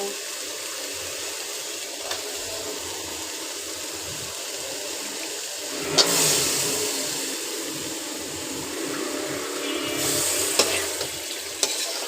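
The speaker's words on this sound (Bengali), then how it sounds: "এখন দিয়ে দিব মুরগির মাংস।" Chicken meat sizzling in oil with browned onions in a pan, a steady broadband hiss throughout, with a few sharp clicks and short louder flare-ups near the middle and end.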